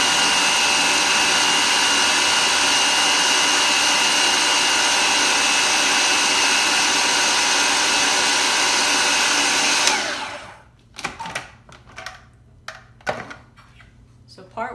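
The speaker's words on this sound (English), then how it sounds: "So now we're going to blend it, process it, puree it." A food processor purees plantain for pancakes, running as a loud, steady whir for about ten seconds before stopping abruptly. Scattered clunks and scraping sounds follow.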